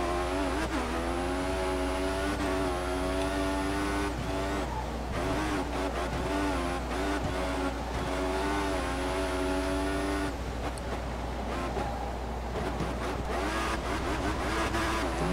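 Simulated Formula 1 race car engines from the F1 2014 video game at the Bahrain circuit whine loudly and continuously, pitch rising and falling through gear changes and corners, with no talking over it.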